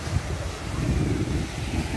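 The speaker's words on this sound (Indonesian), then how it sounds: "Kita dah berada dekat Pantai Pengkalan Balak." Surf washes onto Pengkalan Balak beach in Melaka, a low steady rumble of waves mixed with wind buffeting the microphone, continuous and fairly close, with no speech.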